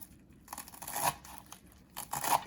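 Fresh coriander (dhania) held tightly and chopped small with a knife for garnish, giving two short bursts of crisp, crunchy cutting with a quiet gap between them and no speech.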